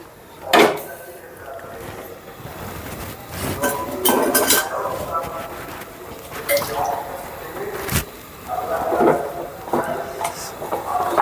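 Metal pot of spiced meat being set on a stove, with cutlery and dishes clinking and scraping in a home kitchen; short knocks and clinks scattered throughout, moderately close, with bits of background voice.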